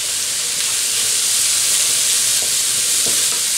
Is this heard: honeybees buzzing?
no